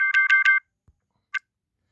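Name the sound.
alarm going off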